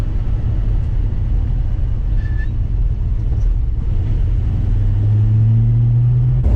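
A 1949 Studebaker Champion with bad brakes and a poor clutch drives along after sitting for 20 years, its engine and road rumble loud and close, rising in pitch toward the end as it pulls.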